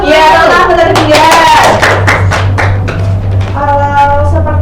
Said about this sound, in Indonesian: Ya, tepuk tangan untuk tinggal.